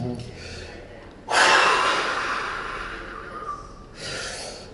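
Forced fast exhalation during a lung-function breathing test in a sports lab: a long, loud, rushing breath out bursts in after a quiet start and tapers over several seconds, followed by another airy blast near the end.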